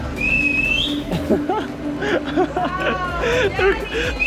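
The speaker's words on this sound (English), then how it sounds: "they're whistling at me" A couple of short whistles ring out amid lively crowd chatter and street noise in San Miguel, El Salvador, with voices talking throughout.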